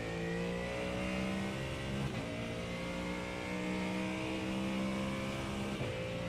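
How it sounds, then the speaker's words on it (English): A GT3 race car engine in the iRacing simulator, one of a Mustang, Mercedes or BMW, drones at steady high revs. The loud, continuous tone shifts slightly with quick changes around each gear change. "I get to at least listen to an incredible engine for all of my stints"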